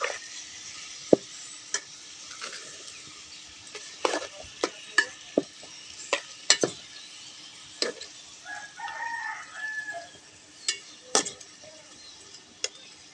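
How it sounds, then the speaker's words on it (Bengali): Beef fries in hot oil with turmeric, making a soft background sizzle punctuated by sharp, irregular spatula knocks and scrapes against the pan. Faint clucking-like sounds come from the distance. "গরম তেলে মাংসটাকে সুন্দর করে আমরা ভেজে নেব।"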